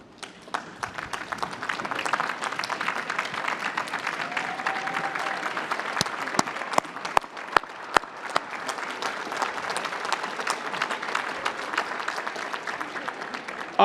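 An MIT graduation ceremony audience applauds: sustained clapping from a large crowd, steady and fairly loud, with a few sharper individual claps standing out near the middle.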